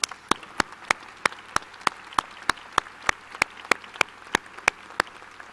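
Slow, steady clapping at a school graduation for the board of trustees, sharp evenly spaced claps about three per second, fairly close and sparse rather than a full crowd ovation.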